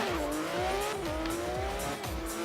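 An upgraded car in the racing game Forza Horizon 3 roars along at high revs, its engine note climbing and falling while the tires squeal repeatedly through corners, loud and close.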